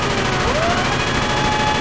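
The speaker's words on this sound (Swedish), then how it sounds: "var kom skotten ifrån?" Dense video game gunfire from a police shootout, a loud continuous barrage of shots layered with game sound effects and no pauses, filling the whole moment.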